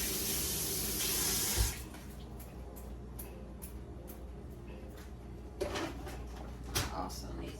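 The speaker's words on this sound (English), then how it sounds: "I'm gonna wash my hands. Have a few utensils to wash," A kitchen tap runs full at first for hands and utensils, then the flow drops and dishes clink and knock intermittently, with a voice talking faintly underneath.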